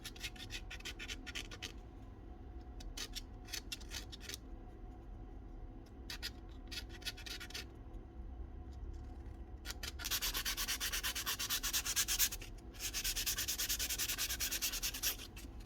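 Sandpaper rubs down a plastic part of a DeWalt DCD996 cordless drill under repair, with short, close scratchy strokes in quick bursts, then a longer stretch of steady, continuous sanding toward the end.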